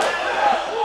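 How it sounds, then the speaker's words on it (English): Members of the OVW locker room cheer on Sinn Bodhi at a wrestling match: a dense, loud crowd roar of shouting voices fills the whole short moment without a break. "There you see members of the OVW locker room cheering on Sinn Bodhi."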